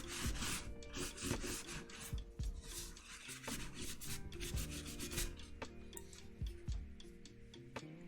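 A Singa75 keyboard is scrubbed with Brasso polish to clean it. Repeated close, dry rubbing strokes carry on steadily throughout, with faint tonal sounds in the background.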